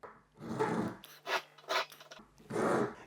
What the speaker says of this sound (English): we're just going to gently file that tang away